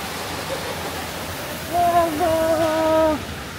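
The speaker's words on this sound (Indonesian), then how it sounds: "Lihat air terjun." Waterfall near Pangalengan, a steady broad rushing roar of falling water throughout, with a brief tonal sound like a distant horn or voice rising over it near the end.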